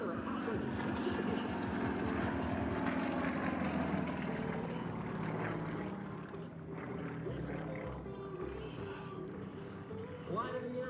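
Sukhoi aerobatic planes flying past at an air show at Travis Air Force Base, a loud, sustained engine roar that swells and fades as the aircraft pass, with an announcer talking over it.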